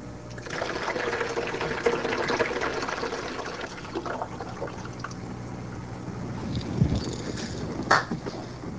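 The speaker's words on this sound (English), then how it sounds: "Water is then poured into the jug." Water pours from a jar into a jug in a soft, continuous trickling stream, followed by a few brief splashes and clinks near the end, with no talk.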